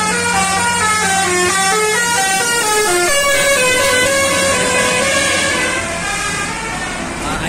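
A Palala bus, unit E04, sounds a long melodic multi-tone horn as it passes on the road, loud and close, with the engine rumbling underneath and the horn fading slightly at the end.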